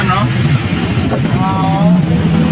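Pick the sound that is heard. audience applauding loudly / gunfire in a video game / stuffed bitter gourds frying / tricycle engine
tricycle engine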